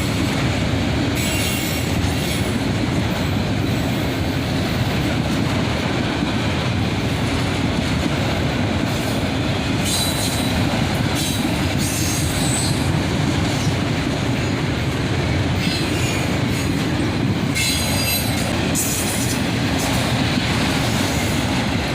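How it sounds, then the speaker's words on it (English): A northbound autorack freight train led by an ES44AH locomotive rolls past close by, with a loud continuous rumble, rhythmic wheel clatter and intermittent high wheel squeals, sustained the whole time. "ES44AH leads this northbound autorack train."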